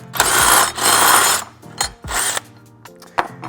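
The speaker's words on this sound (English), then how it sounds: "I'm trying to keep my drill as straight up and down as possible" A power drill whines in two long bursts, biting into the sheet metal of a 2019+ Mercedes Sprinter van door with a harsh grinding tone, then stops and restarts briefly with a few short clicks.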